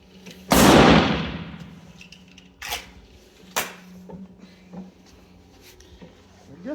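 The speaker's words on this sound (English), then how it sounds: "Let's shoot 5 more rounds" A Remington Nylon 66 rifle firing Mini Mag rounds outdoors: one loud, sharp report with a long decaying tail, followed by several fainter, spaced-out shots.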